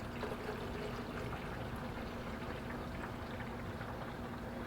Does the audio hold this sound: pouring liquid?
yes